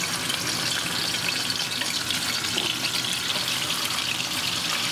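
Rolled bracciole fry in hot oil in a pan, a dense, even sizzle that holds steady and fairly loud throughout with no talking over it.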